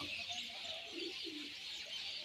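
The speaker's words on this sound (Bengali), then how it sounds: "এটা নর পায়রা আছে" A male pigeon coos nearby in soft, low, rolling phrases, a few repeated throaty calls over a faint hiss of background noise.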